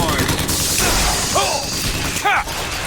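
Gunfire in the video game Bioshock Infinite, a burst of loud shots and impacts over busy game noise, with whistling, rising electronic chirps and a voice speaking underneath.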